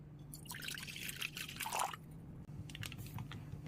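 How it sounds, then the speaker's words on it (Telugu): Water trickles and splashes into a kadai set on a lit stove while preparing noodles, a steady close pour with a low hum underneath, no talking. "ముందుగా మనం స్టవ్ ఆన్ చేసి అందులో ఒక కడాయి పెట్టి అందులో కొంచెం వాటర్ని యాడ్ చేద్దాం"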